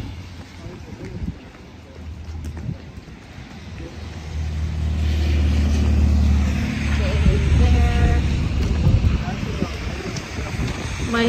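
A car drives along a slushy road in cold, windy weather, its low rumble and hiss swelling midway and mixed with gusty wind buffeting the microphone.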